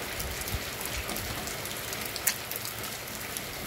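Steady rain falling at night in Santana do Ipanema, a dense, even hiss of drops on surfaces with occasional louder splashes, close and unbroken, with no voices.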